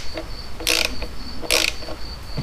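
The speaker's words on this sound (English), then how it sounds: "I have to tighten these bolts up. I have to torque them." A torque wrench clicks and ratchets on the front sprocket cover bolts of a 2007 Yamaha V Star 1300 motorcycle, giving a few short, close bursts of metallic ratcheting with quiet pauses between.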